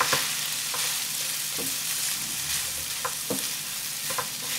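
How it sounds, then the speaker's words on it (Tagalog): Rice and mixed vegetables being stir-fried for chow fan in a pan, a steady close sizzle broken by sharp scraping and tossing strokes from the spatula at irregular intervals, with no voices. "magsangag na tayo"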